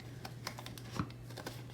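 Scissors slice through a paper folder in a quick, close series of small crisp snips and clicks.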